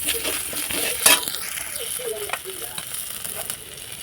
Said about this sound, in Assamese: সেইখিনি মাছ ভাজা তেলতে পিঁয়াজ আৰু 3টা শুকান জলকীয়া দিছোঁ, অলপ পাঁচফোৰণ দিছোঁ, দি পেলাই অলপমান ভাজি ল'ম